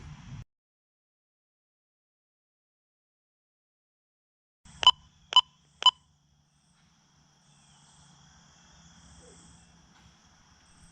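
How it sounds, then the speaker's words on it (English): Three short, sharp electronic beeps in quick succession from a Mighty Mule FM136 wireless intercom keypad confirming a newly programmed entry code, clear and close against near silence, followed by faint low background hum. "Now we got our 3 beeps, and that confirms our new entry code has been accepted"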